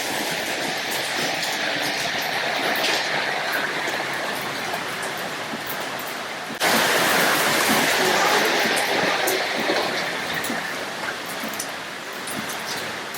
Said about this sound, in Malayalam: പുറത്ത് നല്ല മഴ തകൃതിയായിട്ട് പെയ്തുകൊണ്ടിരിക്കുക